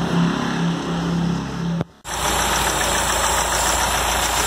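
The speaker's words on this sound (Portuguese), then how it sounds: "Agora eu vou colocar num motor AP ali pra testar, pra já mandar o carburador já testado pra ele." A VW AP engine fitted with a freshly reconditioned carburetor idles steadily and close by, a brief cutout near two seconds before the even, low throb resumes at a constant level.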